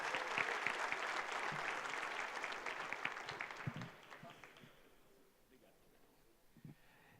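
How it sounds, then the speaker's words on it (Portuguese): Audience applause at a round-table conference session, dense clapping for about four seconds that thins out and fades, leaving scattered claps and soft murmuring. "Vamos dar um aplauso."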